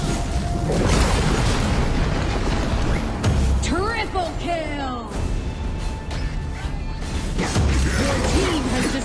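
A tower is destroyed during a video game match, with booming crashes and mechanical clatter under an announcer-style voice, dense game effects layered loudly throughout.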